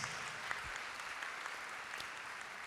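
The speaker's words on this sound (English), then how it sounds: "So please show them a round of applause." An audience claps together in sustained, fairly faint applause, a dense patter of many hands that stays even throughout without voices.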